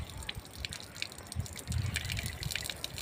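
Water runs from a household tap in a steady splashing gush with small drips and trickles, fairly close and continuous, with no talking.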